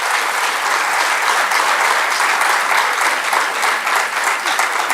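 Loud, sustained applause from an audience fills the whole stretch as a dense, even wash of many hands clapping. It welcomes Vijay Sharma, Deputy Chief Minister of Chhattisgarh, at a keynote event.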